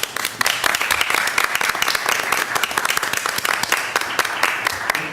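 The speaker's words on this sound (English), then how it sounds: "one more round of applause" A room full of people at a school district board meeting claps steadily and loudly for several seconds, a dense round of applause with no let-up.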